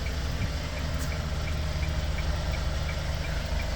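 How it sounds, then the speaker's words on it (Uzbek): A 2018 Hyundai Porter truck with a manual gearbox idles just after starting, a low, even engine drone with a faint, regular ticking running through it. "Mashinani zavod qilib qo'ydik."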